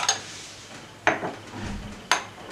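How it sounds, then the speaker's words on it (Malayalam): A spoon clinks against a bowl while shawarma filling is mixed with mayonnaise, three sharp taps spaced about a second apart with soft scraping and stirring between them, close and fairly quiet. "ഓക്കെ, ഞാനിട്ടൊന്ന് മിക്സ് ചെയ്തെടുക്കുന്നുണ്ട്."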